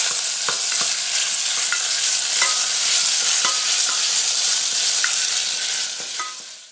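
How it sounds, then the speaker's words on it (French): Tomato sauce thickened with tomato paste sizzles steadily in a pan, broken by repeated clicks and scrapes of a utensil stirring, with no talking. "Et on mélange bien l'ensemble"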